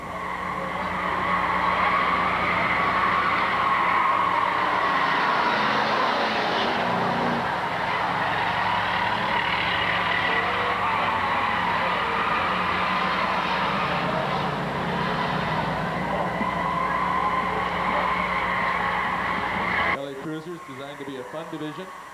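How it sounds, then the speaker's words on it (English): Race cars lapping during a trophy dash at Lakeport Speedway, a continuous loud roar of engines with swelling passes and tire noise, a track announcer talking over it throughout. "First lap, being challenged on the outside by the Mighty Mouse, Bob Strauss."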